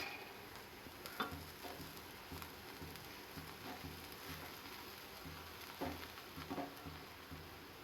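Puffed rice tempering being stirred in a pan: faint, soft scraping and light crackling ticks of a spoon moving through the dry puffed rice, with a low sizzle beneath, quiet and close.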